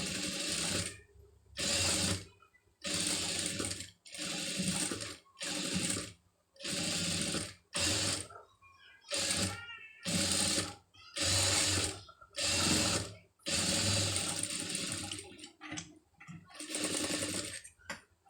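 Sewing machine running in repeated bursts while stitching a lace design, about a dozen short runs of steady mechanical whirring separated by brief pauses, close and clear with no talking.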